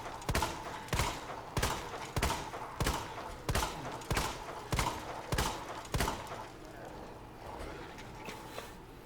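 Gunfire with infinite ammunition in Resident Evil 2, about nine evenly spaced sharp shots at close range that stop partway through, followed by quiet game ambience.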